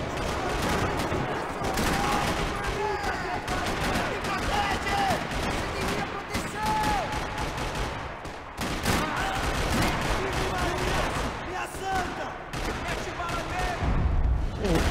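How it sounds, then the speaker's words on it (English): Gunfire in the video game Max Payne 3, dense rattling bursts of shots and booms echoing across a parking lot, sustained and loud with brief lulls, with some voices mixed in. "Another parking lot rattling with gunfire"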